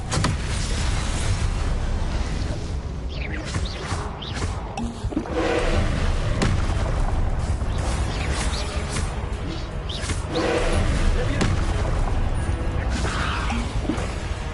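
Confringo fire spells burst repeatedly in Hogwarts Legacy combat, loud crackling blasts and whooshes stacking over a dense, continuous din of spellcasting and impacts.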